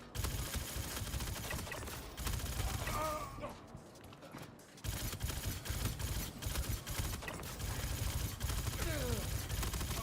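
Gunfire in the video game Frontier Fighters: dense, loud rattling volleys of shots run through most of the stretch, with a brief lull midway before the shooting resumes just as heavily.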